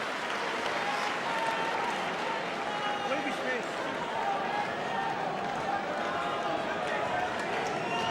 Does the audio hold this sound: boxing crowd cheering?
yes